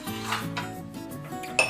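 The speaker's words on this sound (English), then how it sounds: "let's mix the egg a little bit" Egg being whisked in a bowl for scone batter, with close, quick clinks and scrapes of utensil against the dish and a brighter clink near the end.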